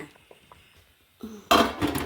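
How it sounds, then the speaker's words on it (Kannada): Boiled potatoes tipped from a pot into a strainer: a few light clinks of utensils, then a sudden loud rush of water and tumbling potatoes that continues to the end. "ಇದನ್ನು ಪುನಃ ಸ್ಟ್ರೈನರ್ಗೆ ಹಾಕೊಂಡು ಬಿಡುವ"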